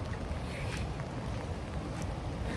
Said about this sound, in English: The weather is awful. Raining, windy.